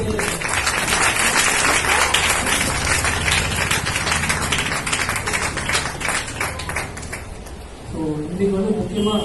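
An audience claps for children in a hall, dense applause swelling and then thinning out before a voice resumes talking at the end.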